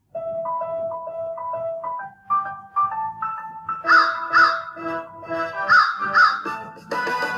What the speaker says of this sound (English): Look at this flock of crows.